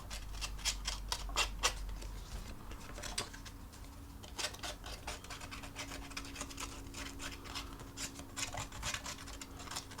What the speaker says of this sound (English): you can grab your scissors and you can then rough up the edges with your snips